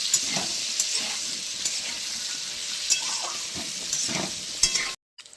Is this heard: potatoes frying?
yes